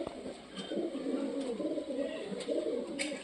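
A Punjabi ATM pigeon coos steadily and fairly close, its low rolling calls running continuously with a few faint higher chirps and clicks in the background.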